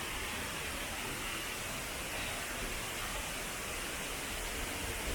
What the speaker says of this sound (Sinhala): වතුර වල ශබ්දයත් එක්ක